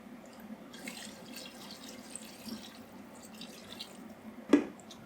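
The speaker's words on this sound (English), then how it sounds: "we can then add more water." Water trickles and drips into a goulash pot as it is poured in the kitchen, a soft, uneven splashing with a sharper splash near the end.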